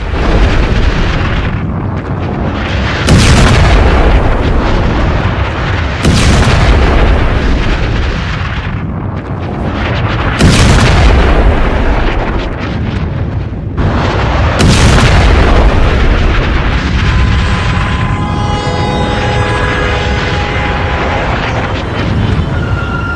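Artillery shelling strikes Beirut, Lebanon, with four heavy booms spaced a few seconds apart, each followed by a long rumbling roll. A faint mechanical whine comes in near the end.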